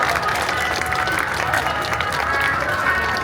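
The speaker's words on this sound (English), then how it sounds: "Big round of applause, Private Oliver Hobbs" An outdoor crowd at the Blackpool Airshow applauds a parachutist's landing, a steady, dense wash of distant clapping and crowd noise throughout.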